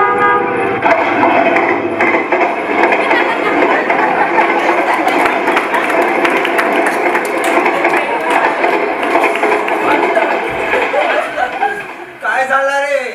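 A stage sound effect for a one-act play: a train thunders past with a continuous loud rumble and blaring horn blasts. Voices and a chuckle are heard near the end.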